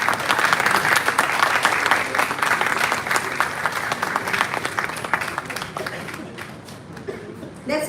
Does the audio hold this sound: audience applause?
yes